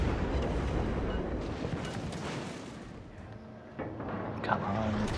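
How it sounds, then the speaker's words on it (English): Eight-inch guns of the cruiser Salem in World of Warships Legends boom as a broad, loud rumbling roar mixed with a continuous low drone, with a few sharper thumps near the end while a voice talks over it. "these 8-inch guns are doing good at citadeling"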